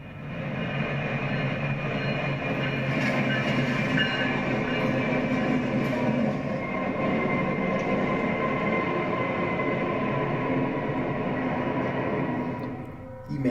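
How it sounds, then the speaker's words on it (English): A train roars past nearby, a loud continuous rumble and rattle of wheels and cars that holds steady for over ten seconds, with no voices. "the train blazes by with only inches to spare"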